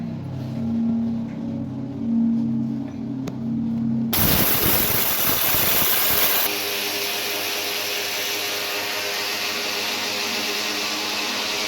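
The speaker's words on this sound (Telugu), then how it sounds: "సో మినపప్పు కూడా మెత్తగా గ్రైండ్ చేసేసాను." A mixer grinder grinds soaked urad dal to a smooth batter: a low hum gives way to a sudden loud, steady whirring roar that holds close and unbroken to the end, with no talking.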